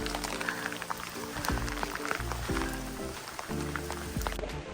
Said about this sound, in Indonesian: Tiba-tiba hujan deras.